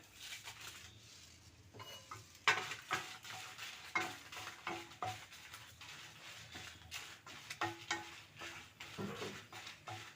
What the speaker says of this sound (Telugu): ముందుగా మనం ఎండుమిర్చి వేసి వేయించుకుందాం